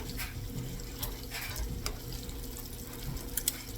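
Bacon bits frying in a pan give off a steady, faint crackling sizzle with occasional sharper pops, alone without talk.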